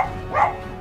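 One short dog bark, close and moderately loud, a single clipped woof over a steady low background hum.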